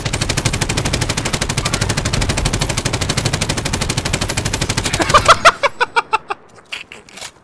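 Rapid automatic gunfire from a Call of Duty: Warzone match, a long unbroken burst of loud suppressing fire that gives way to a handful of separate, spaced shots near the end.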